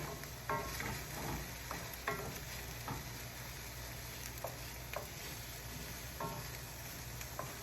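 Scrambled eggs with cheese, hot sauce and milk sizzle steadily in a pan, with soft scraping stirs repeating throughout at close range and no talking.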